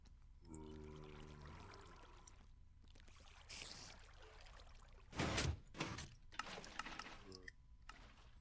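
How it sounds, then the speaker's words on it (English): Water flushing through a mob farm in Minecraft, quiet trickling and rushing with a few louder splashing bursts and short pauses between them. "Is now flushing with water"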